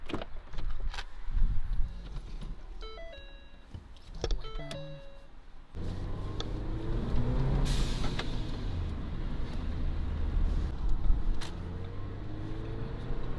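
A 2017 Ford Fiesta ST sets off from inside the cabin, with a few clicks and beeps before a steady engine drone and road rumble build under faint interior noise.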